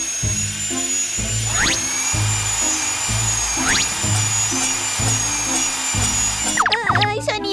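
Cartoon dentist's drill whining in short high-pitched bursts that rise and fall over a bouncy musical backing, with a few squeaky sound effects near the end.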